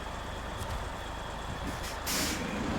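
A heavy truck in SnowRunner idles with a steady low engine rumble, then a loud hiss of air brakes releasing near the end as it starts to pull forward.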